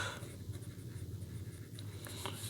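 An extra fine nib fountain pen filled with Daytone black ink scratches softly across paper in short strokes, faint and close, over a steady low hum.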